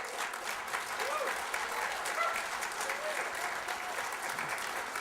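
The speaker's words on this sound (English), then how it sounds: "I'm glad you guys did applause" A crowd at a museum press conference applauds steadily throughout, a dense, even clapping from many hands in a room, with a voice faintly audible underneath.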